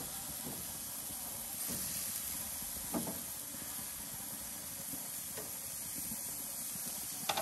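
Steaks sizzle on a grill with a steady broadband hiss, a few faint clicks and pops scattered through, at moderate distance and without speech.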